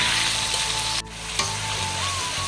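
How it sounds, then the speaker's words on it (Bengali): Onion, capsicum, tomato and green chilli fry in oil in a pan over a wood-fired clay stove, a loud, continuous sizzle close by, broken by one brief dip as the food is stirred. "পেঁয়াজ ক্যাপসিকাম টমেটো দেখতে পাচ্ছ সব এক জায়গায় ভালো করে ভাজা ভাজা করে নেব"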